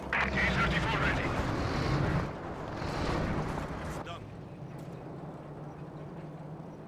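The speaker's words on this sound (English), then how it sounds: "Drops the artillery down on the AT guns." Artillery barrage pounding anti-tank gun positions in the video game Company of Heroes 2, a dense sustained rumble of blasts that eases partway through, with a commentator talking over it.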